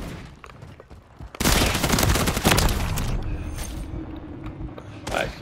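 Call of Duty MW3 gunfire hits hard after a quieter lead-in: loud, rapid automatic shots ring out in close bursts, followed by trailing mechanical clatter and echoing reports, with another shot near the end.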